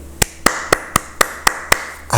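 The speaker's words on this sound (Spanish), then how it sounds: "aplaudiéndole a Trump" Several people clap in sharp, evenly spaced bursts, roughly eight distinct claps over two seconds, loud and close, applauding Donald Trump at the White House.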